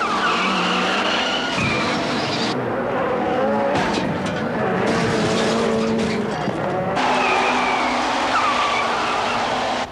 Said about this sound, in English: The cars are chasing each other, trying to catch up and bump the one in front.